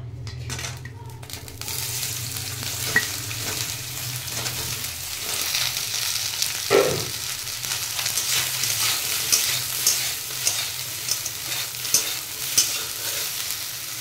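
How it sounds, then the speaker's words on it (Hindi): Soybean chunks fry in a little oil in a hot kadai, a steady close sizzle with occasional stirring scrapes and light clinks of a spoon against the pan, no voices. "सोयाबीन को हल्का गोल्डन ब्राउन होने तक फ्राई कर ले"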